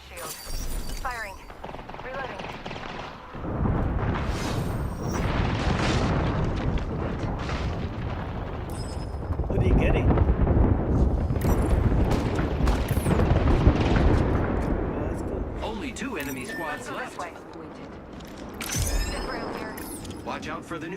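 Bursts of R99 gunfire and explosions fill a hectic battle-royale game match, loud and near, layered with game effects and clipped voice lines over a continuous dense din.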